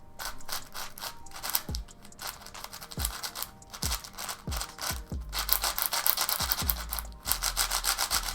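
Repeated plastic clicks and clacks from a GuHong v4 speed cube being turned quickly, with a rattle like a loose magnet, in irregular bursts over a soft rubbing hiss, close and fairly quiet.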